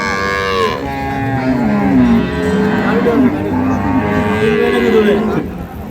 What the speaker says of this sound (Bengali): একটি গাভী গরু চমৎকার গাভী গরু লেজের বাড়িও মারছে